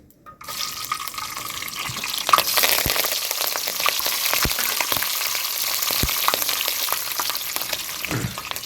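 Steady, loud sizzling of curry leaves frying in hot oil, with a few sharp pops and crackles throughout.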